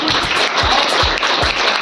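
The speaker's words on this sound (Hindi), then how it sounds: "सभी बच्चों का आदरणीय जोरदार तालियों से एक बार स्वागत किया जाए।" Loud applause rings out at a school gathering to welcome the children, a dense, steady clatter of many hands with a few heavier thumps, filling the space without any talk.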